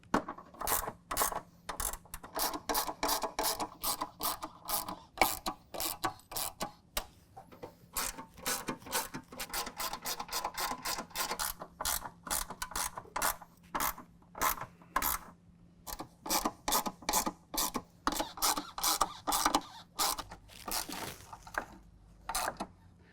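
Rapid metallic clicking and ratcheting as nuts and bolts are tightened on steel tube fender flares, bursts of clatter separated by short pauses.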